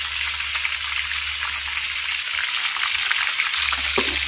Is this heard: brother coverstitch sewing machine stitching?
no